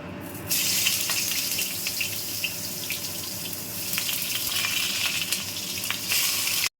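Eggplant pieces drop into hot oil left over from frying potatoes for Bengali shukto, and a loud, steady sizzle starts about half a second in and carries on unbroken to the end.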